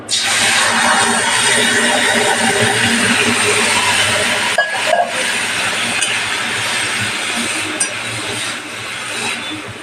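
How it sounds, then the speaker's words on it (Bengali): Water is poured into hot, red-roasted semolina in a kadai and sets off a loud, continuous hiss of steam and sizzling. It lasts the whole stretch, with a brief dip midway, then eases slightly toward the end. "সুজিটা লাল করে ভাজা হয়ে গেছে, এর মধ্যে আমি জল দিয়ে দেবো।"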